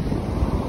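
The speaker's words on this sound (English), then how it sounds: "see the waves?" Ocean waves breaking at Navarre Beach give a short burst of low rushing surf mixed with heavy wind noise on the microphone, loud and close, with no talk.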